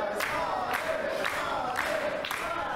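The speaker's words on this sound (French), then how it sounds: "La foule est conquise et ralliée à la cause de Salem." A wrestling crowd cheering for the wrestler Salem: a dense, continuous roar of many voices with rhythmic swells of shouting, loud and enveloping throughout.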